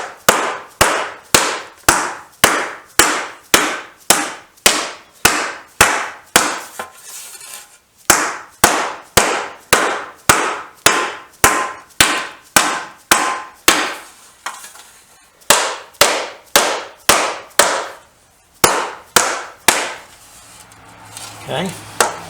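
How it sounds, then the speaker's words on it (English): Heavy blows from a bigger-headed hammer strike a sandbag in a steady, rapid rhythm, each a sharp dull thud, close and loud, with a few short pauses between bursts. "I'm moving to a bigger hammer actually"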